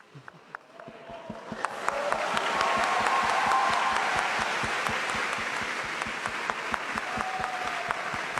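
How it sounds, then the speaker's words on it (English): Sustained audience applause fills a large hall as Pope Francis greets a young person at a meeting with Japan's youth, swelling after a sparse start into dense, steady clapping with a few louder individual claps. "a round of applause as the Holy Father greets Miki"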